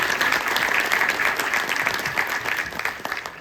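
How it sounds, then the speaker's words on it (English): Audience applause at an annual Dr. Martin Luther King Jr. breakfast at the Charles H. Wright Museum, a dense, steady wash of clapping from a large crowd, loud and continuous, tapering slightly at the end. "let's give them a round of applause"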